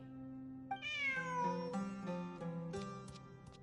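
A cat in the Genshin Impact video game gives a clear, drawn-out meow, then a couple of shorter meows, close and fairly quiet.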